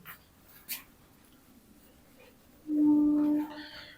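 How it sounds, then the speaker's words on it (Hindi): Chalk or marker writing the word ampere on a board during a physics lesson, a short scratchy stroke near the start, then a louder sustained tonal stretch later on. "एम्पियर लिखते हैं।"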